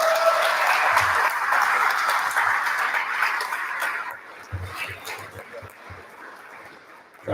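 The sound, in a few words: dinner audience applauding Timothy O'Donnell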